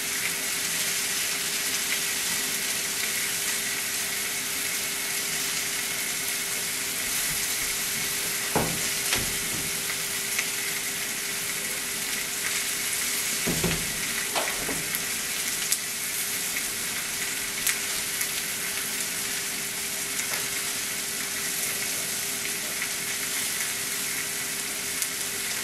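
A steak fries in a hot pan with a steady, dense sizzle that goes on unbroken, close and loud, with a few brief clicks and scrapes partway through and no voices.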